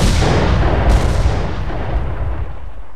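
A grenade explodes in the video game STALKER: Shadow of Chernobyl: a single loud, close boom that rolls off into a fading rumble.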